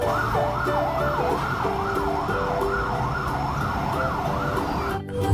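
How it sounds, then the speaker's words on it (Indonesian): A toy fire truck siren wails in a steady, loud rising-and-falling cycle, repeating evenly for several seconds before cutting off abruptly at the end. "Wow, ini ternyata mobil damkar."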